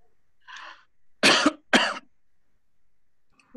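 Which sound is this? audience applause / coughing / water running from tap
coughing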